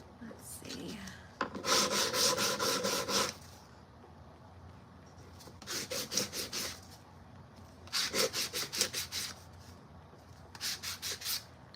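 Hand sanding of jewelry with sandpaper, close rhythmic back-and-forth rubbing strokes in several bursts, separated by quieter pauses.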